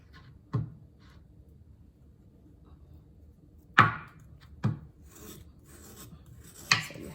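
Brick of coconut sugar rasped against a grater in a home kitchen, heard as a few separate, sharp scraping strokes with quiet pauses between them.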